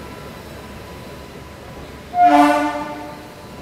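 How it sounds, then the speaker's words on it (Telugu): The Ratnachal Express pulls into Nidadavolu Junction and sounds a single loud horn blast about midway that fades out, over a low steady background rumble. "Ratnachal express Nidadavolu junction railway station చేరుకోవడం జరిగింది"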